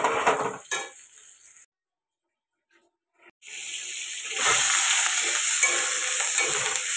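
Mutton fries in a pan with a loud, steady sizzle and scraping stirs, interrupted by a silent gap before the hiss swells back up even louder.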